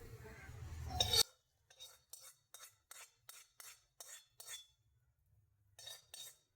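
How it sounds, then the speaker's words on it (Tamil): A spoon stirs roasted cashews into kali in a pot, making soft, evenly spaced scraping and clinking strokes close by, following a brief burst of louder kitchen noise at the start. "இப்போ இந்த களியில் போட்டு கலந்துக்கலாம்."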